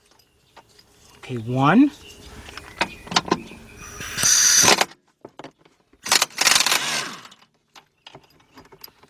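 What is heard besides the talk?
socket wrench removing Audi A8 starter bolt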